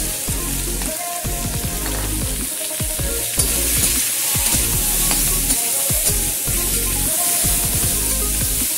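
Panch phoron and dried red chillies fry in hot oil for a Bengali star fruit chutney, giving a loud, continuous sizzle and crackle with spattering pops throughout.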